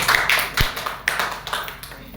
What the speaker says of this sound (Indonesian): Tepuk tangan untuk Gracia kita.